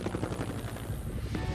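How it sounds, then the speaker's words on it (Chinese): Cartoon rescue helicopter in a children's animated show, its steady rotor chop running loud and continuous throughout, with no talking. "我们需要你驾驶直升机带篮子来摩天轮"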